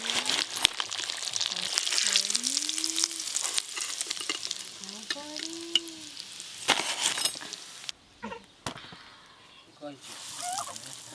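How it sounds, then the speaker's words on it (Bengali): Egg devil croquettes fry in hot oil in a home kitchen, a steady close sizzle with occasional stirring clatter, while people talk and a voice rises over it. "এইগুলোও ভেজে নেব"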